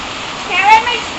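Heavy rain pours outdoors in a steady broadband wash, with a brief louder swell near the middle, heard closely and without other clear sounds.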